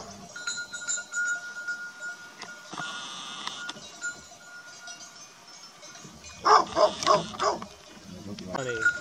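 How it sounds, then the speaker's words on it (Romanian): Shepherd dogs bark near a cart on the way to a sheepfold, a burst of several loud, close barks and yips following quieter distant animal calls and people talking. "Au venit câini aici lângă căruță."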